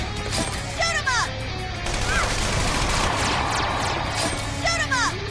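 Gunfire in Persona 5 Strikers comes in several quick bursts of shots, mixed with chirpy combat effects over a continuous battle soundscape.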